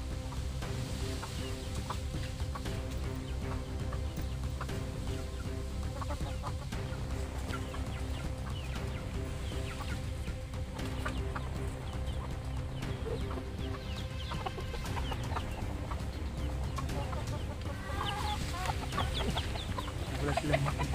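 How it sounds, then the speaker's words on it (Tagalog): Chickens clucking around a farmyard, scattered overlapping calls near and far over a low steady hum, with occasional faint voices in the background. "marami silang alagang manok dito"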